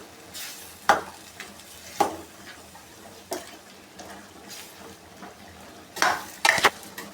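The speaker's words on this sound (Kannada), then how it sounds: "ಇವಾಗ ಎರಡು ನಿಮಿಷ ತರಕಾರಿ ಜೊತೆಲಿ ಇದು ಕೂಡ ಫ್ರೈ ಆಗಲಿ" Vegetables and masala fry in a pan, with a soft steady sizzle broken by intermittent scraping stirs and clinks of a spoon against the pan.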